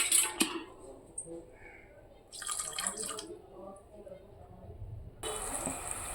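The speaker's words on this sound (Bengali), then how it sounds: "এবার জল দিয়ে দেবো।" Water poured into a cooking pot of fish curry in a Bengali home kitchen, heard as two short splashing bursts at moderate loudness separated by quieter kitchen background.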